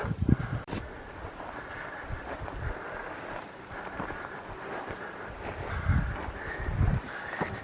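Steady wind roars and buffets the microphone in gusts during a climb to Köroğlu Peak near Kıbrısçık, Bolu, Turkey, with low rumbling surges and no voices.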